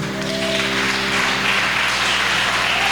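Church congregation applauding during a family worship service, a steady broadband wash of clapping with sustained organ or keyboard tones held underneath throughout.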